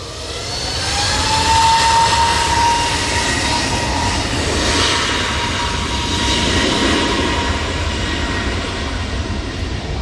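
Aircraft engines roar at Manchester Airport during Storm Floris as a takeoff is stopped, a loud, sustained, broad rumble with a faint rising whine, heard from a distance across the airfield.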